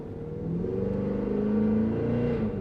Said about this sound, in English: And the exhaust in this one, I already mentioned you can't adjust the way that sounds